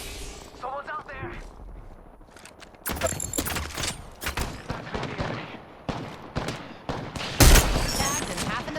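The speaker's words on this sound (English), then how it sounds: "Taking fire! I'm taking fire." Video-game gunfire crackles in bursts of sharp shots, some loud and near and others scattered, while players talk over the action.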